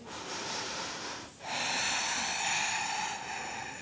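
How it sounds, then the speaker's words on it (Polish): Deep, slow breathing during a hip-opening yoga stretch on a mat: one long, soft airy inhale followed by a fuller, steady exhale, close and quiet, with no talking. "Jeszcze jeden cały oddech."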